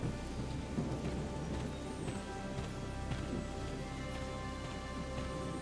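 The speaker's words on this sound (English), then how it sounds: "What a terrible storm." Steady rain pours down during a thunderstorm in Valkyria Chronicles 4, with soft rumbles of thunder rolling through the continuous wash of falling water.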